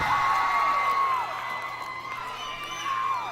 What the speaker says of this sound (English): The crowd was super hype.